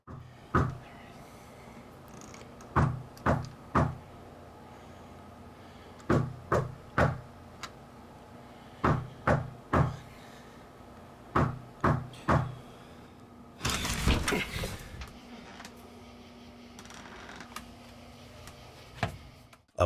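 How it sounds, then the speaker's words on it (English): Someone knocks on a front door in repeated groups of two or three sharp, loud raps with pauses between them, then a brief rustling scrape, then one final knock. "There's been someone knocking at my front door for the last 10 minutes or so"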